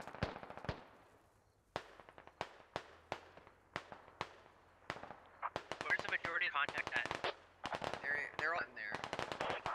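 Rapid bursts of automatic rifle fire and single shots crack through a Squad firefight in a lake area, some close and loud, others farther off, with dense overlapping volleys in the later half and brief voices between.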